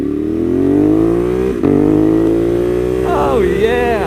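A 2020 Ducati Monster 821 Stealth motorcycle's engine revs loud and close on a ride. The pitch climbs smoothly, dips briefly, then swings up and down near the end.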